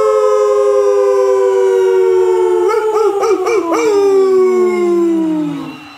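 Voices join in a collective imitation of a wolf howl, long wavering tones that rise, quiver and slide down together before fading out at the end, with no other speech.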